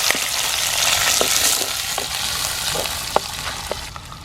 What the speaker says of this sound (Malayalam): സവാള ഒന്ന് നൈസായിട്ടൊന്ന് വഴറ്റിയെടുത്താണ്.